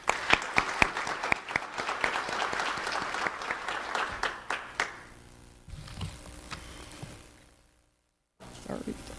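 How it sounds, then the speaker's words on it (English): Applause from the audience at a swearing-in ceremony, thanking the clerk who helped run it: dense, steady clapping for about five seconds that thins into scattered claps, then falls to near silence before faint room noise returns. "Please give him another applause."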